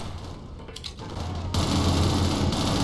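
Sustained automatic fire from a Halo-style SMG in the 2007 shooter Shadowrun, a dense, loud rattle that thickens and grows heavier midway, continuing without pause to the end.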